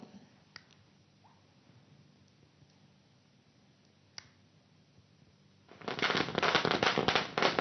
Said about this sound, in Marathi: त्यांच्या स्वागतासाठी आम्ही फटाके फोडलेले आहेत